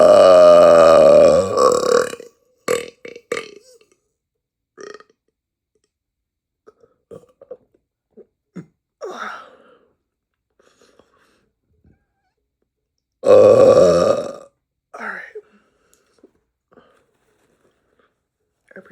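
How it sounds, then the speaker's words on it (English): A person eating corn and tacos lets out a long, loud belch, then another about eleven seconds later, with quiet clicks and small mouth noises in between. "I think I got one more burp in me."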